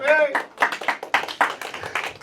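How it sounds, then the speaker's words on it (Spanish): A congregation claps hands in a church service, a rapid run of sharp claps over about two seconds, following a brief sung or spoken tone at the start. "Estamos aquí, iglesia, dele palmas al Señor"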